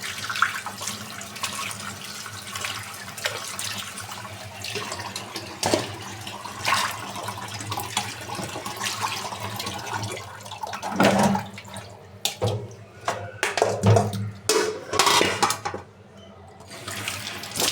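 Boiled fish liver is rinsed by hand under a running kitchen tap, water pouring and splashing steadily into a sink with intermittent sloshes and clatter toward the end.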